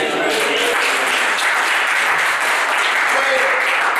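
A church congregation at a seminary service applauds to acclaim the Lord, a loud, dense wash of clapping and cheering voices that carries steadily throughout without pause.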